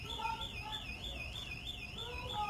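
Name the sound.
alarm going off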